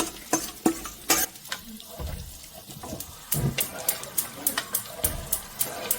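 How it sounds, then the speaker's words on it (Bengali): A spoon stirs soaked lentils into beef haleem in a pot, giving a run of repeated wet scrapes and soft clicks at a brisk, uneven rhythm, close and fairly quiet. "এখন ডালটা এর মধ্যে মিক্স করে দিলাম।"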